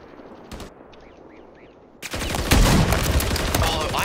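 Call of Duty gunfire: after two quiet seconds with a brief shot and faint chirps, a loud burst of rapid automatic fire erupts and continues densely to the end.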